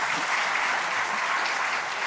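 Steady audience applause at a public program on the killing of Leon Klinghoffer, a dense, even wash of clapping that holds at the same level from start to finish with no voices.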